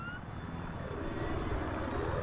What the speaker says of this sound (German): Ich hab einen feindlichen Helikopter gesichtet.